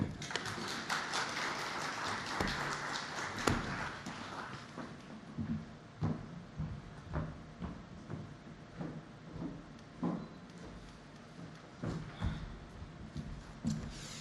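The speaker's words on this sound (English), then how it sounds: "another big round of applause for Farai Muzwandiwa from Earthquo Consulting" A conference audience at a banking awards event applauds after a speech: faint, distant clapping that thins from a dense patter into scattered individual claps.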